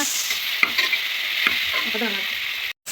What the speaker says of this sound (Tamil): வெங்காயம் வதங்க கொஞ்சம் உப்பு கொடுக்கலாம் நல்லா ப்ரௌனாக வதங்கணுங்க